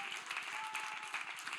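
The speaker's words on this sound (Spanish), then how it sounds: "Vamos, denle un fuerte aplauso de alabanza al Señor." A church congregation applauds in praise during a Spanish-language sermon, steady massed clapping with a fast even rhythm filling the room, no voices over it.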